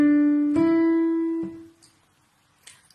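Three sustained, pitched musical notes are played one after another, rising like do, re, mi, each ringing cleanly with rich overtones before fading into quiet.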